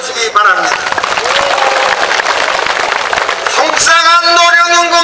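A crowd at an outdoor rally in Incheon bursts into clapping and scattered cheers, loud and close, with someone speaking into a public address system over and around the applause.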